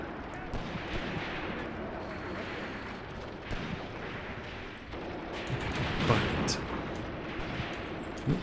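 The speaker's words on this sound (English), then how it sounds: "Taking fire from the tanks as well, it seems." Dense battlefield gunfire from tanks and other guns in the WWII tactics game Graviteam Tactics, a continuous rumble of overlapping shots and blasts with a heavier burst near the end, under faint voices.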